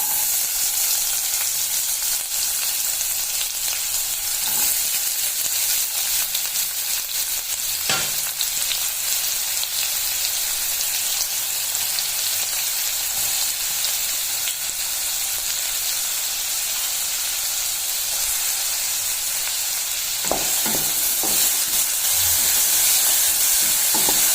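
Onion frying in hot oil with mustard seeds and cumin for a capsicum palya, a steady loud sizzle throughout with occasional pops and stirring clatters, no voices.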